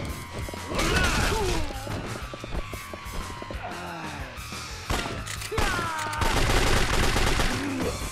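Gunfire in Yakuza 3 Remastered, with repeated sharp shots and bursts over a dense, loud game soundtrack and effects for about eight seconds.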